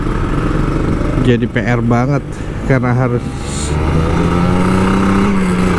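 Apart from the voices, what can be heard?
Kawasaki Ninja RR 150 manual motorcycle engine in rainy traffic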